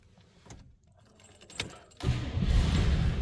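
Keys jangle in the ignition of a 1954 Cadillac Fleetwood sedan, light metallic clinks, then the engine catches and settles into a loud, steady rumble.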